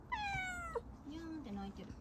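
A maned brown tabby cat at Gotanjoji temple gives a rising, drawn-out meow, then softer mewing follows close by, with people murmuring in the background.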